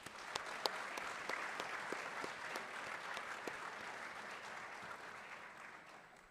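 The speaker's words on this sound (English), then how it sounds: "Please give Rain, Justice, and Phoenix a resounding round of applause" Round of applause from an audience at a school announcement, steady crowd clapping with a few sharper individual claps standing out early, gradually thinning toward the end.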